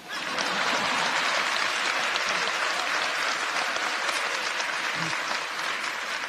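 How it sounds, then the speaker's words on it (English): A large crowd applauds at a speech, a dense, continuous wash of clapping that holds steady and loud for over six seconds. "you can applaud for that"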